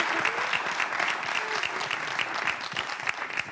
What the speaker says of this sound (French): Vraiment, un applaudissement très fort.